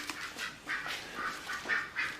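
Several geese honking indoors in a guesthouse hall, a rapid run of loud, close, repeated nasal calls with irregular rhythm and no talking.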